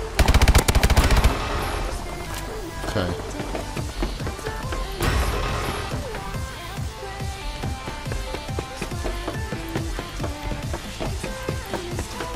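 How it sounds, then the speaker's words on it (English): Rapid bursts of close automatic gunfire in the Call of Duty Advanced Warfare video game, a loud dense volley at the start, then scattered shots and impacts over the game's continuous background sound. "I'm just getting shot at from these weird directions"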